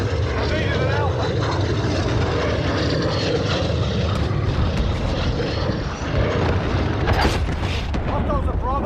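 An enemy VTOL aircraft in the Call of Duty: Modern Warfare video game roars loud and steady with a dense engine rumble. Booms and radio-style voices come through over it.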